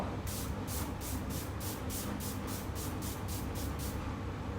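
Makeup setting spray is misted onto a face in a quick series of about ten short, even hissing spritzes, close and fairly quiet, with no talking.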